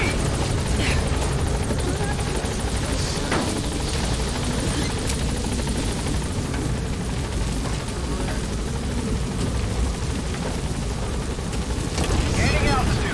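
A support helicopter lifting off in Metal Gear Solid V makes a loud, close, continuous rotor roar with heavy low thumping that holds steady throughout, with no talking over it.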